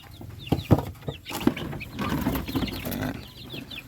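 Three hens cluck in short bursts at close range while being fed, with a few louder sharp calls and scattered rustling as they move about.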